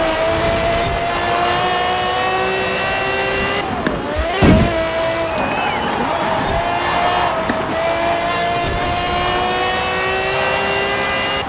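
A Ferrari F50 races in Forza Horizon 4, its engine holding a loud, sustained high whine that shifts pitch through gear changes, with a brief thump of impact partway through.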